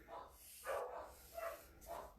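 Two dogs bark in short, muffled bursts several times, faint and somewhat distant in a quiet indoor room.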